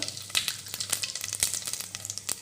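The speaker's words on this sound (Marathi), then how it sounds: "यामध्ये आपण अर्धा चमचा मोहरी घालूया, अर्धा चमचा जिरे घालूया, चिमटभर हिंग" Mustard seeds, cumin and a pinch of asafoetida hit hot oil for Kolhapuri misal, crackling and popping in rapid irregular bursts over a steady sizzle, close and loud, no voices.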